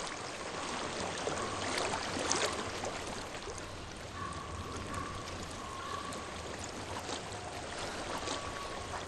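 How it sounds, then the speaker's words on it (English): Water flows steadily in Hellblade: Senua's Sacrifice, a soft, continuous stream-like rush with gentle trickling, low and even throughout. "I hear water. Go to it."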